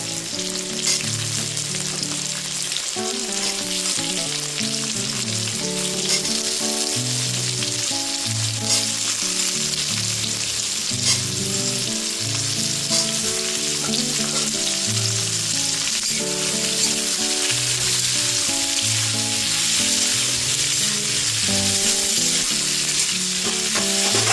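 Diced potatoes fry with mushrooms in a pan, giving a steady, loud sizzle that runs throughout, with faint stirring clatter mixed in.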